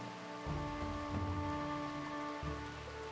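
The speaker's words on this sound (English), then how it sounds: "I think it's raining out there." Rain falling in the video game RimWorld, a soft, steady hiss of drops on surfaces at low volume, with a faint tonal hum running beneath and no voices.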